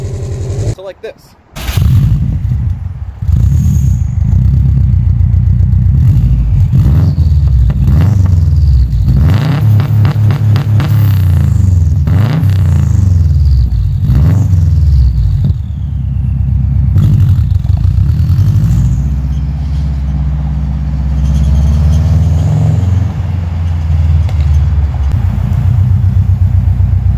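Subaru WRX with an aftermarket 3-inch exhaust, a loud, close engine rumble that revs up and down repeatedly for nearly half a minute, with speech alongside.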